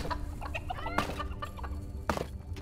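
Chickens cluck repeatedly from chicken cannons in the dungeon-building game Dungeons 4, a busy run of short, overlapping clucks over a steady low game hum.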